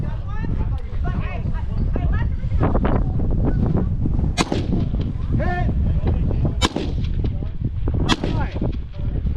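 Rifle shots are fired at long-range targets on a windy range with flags at 300 and 500 yards. Three sharp, distant cracks stand out over a steady rumble of wind and background voices.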